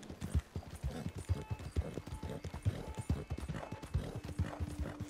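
Horse hooves clip-clop in a steady trotting rhythm in the Red Dead Redemption 2 video game, moderately close and continuous throughout, with faint ambient tones underneath.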